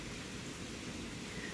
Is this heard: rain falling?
yes